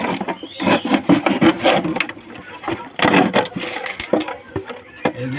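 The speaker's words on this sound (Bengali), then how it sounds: "তৈলের বোতল কাটছি" A discarded plastic oil bottle is cut apart, producing loud crackling, scraping bursts in an uneven rhythm close by.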